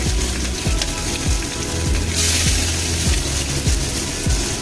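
Mustard seeds, cumin, kasuri methi and chillies frying in hot oil for misal, a steady close crackling sizzle with small regular pops, no talking.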